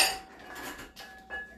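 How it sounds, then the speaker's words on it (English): Rice pours into a quick cooker in a home kitchen, giving bright metallic rattling and clinking against the pot in short bursts with a pause before a final spill, close and without speech. "I am gonna put some rice in there."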